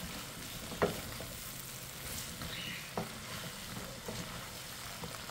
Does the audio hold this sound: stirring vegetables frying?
yes